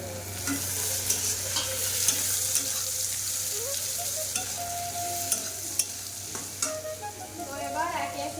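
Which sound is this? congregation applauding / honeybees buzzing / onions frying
onions frying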